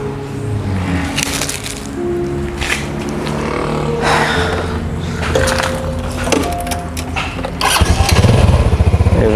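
A motorcycle engine starts up and catches near the end, a loud throbbing burst rising over steady music that plays throughout.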